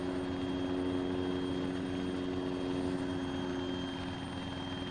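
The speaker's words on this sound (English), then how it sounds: "There's the helicopter." Steady, close helicopter rotor drone from ARMA 3, a dense unbroken whir with a strong low hum holding level throughout, no talk over it.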